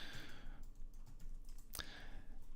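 Someone types on a computer keyboard, producing a few soft, sparse key clicks with one sharper tap, faint and close, with no speech.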